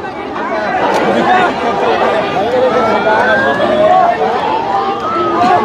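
An ambulance siren wails faintly in rising and falling sweeps, unable to get through a crowd of protesting students outside a college after a plane crash, half buried under loud crowd chatter and shouting voices.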